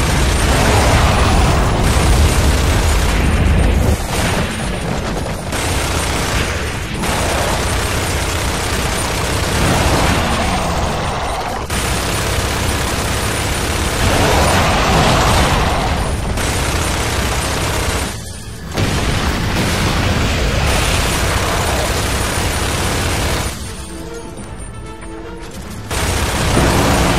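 Mounted turret fire and explosions in Gears of War 2, a continuous loud barrage of rapid gunfire, booms and blasts with brief dips between volleys, dense and close throughout.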